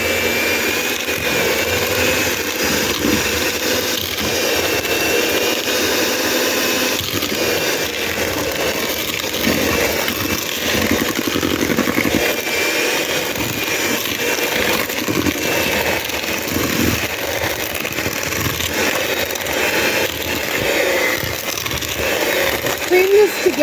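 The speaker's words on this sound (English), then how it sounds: "I'm just going to use a hand mixer because I'm sure most of y'all" An electric hand mixer creams shortening and sugar for sugar cookie dough. It gives a loud, continuous whirring roar close by that never lets up.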